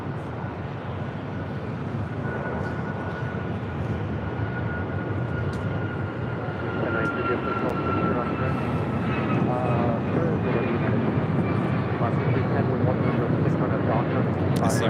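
A Boeing 787 Dreamliner airliner arriving on the north side at LAX gives a steady, moderately loud engine roar with a faint whining tone, while people talk quietly beneath it.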